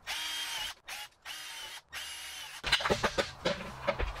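A power drill with a 5.5 mm bit bores bolt holes for a cyclone dust-collector kit, making steady high whines broken by short pauses, then clattering, ratcheting bursts as the bit bites and shifts.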